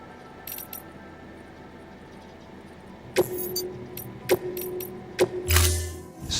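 A vehicle is stored in Death Stranding, heard as three sharp metallic clanks at even intervals over a low ambient hum, followed by a short whooshing mechanical swell.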